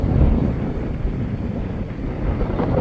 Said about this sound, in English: Apologize if you can't hear me because of the wind.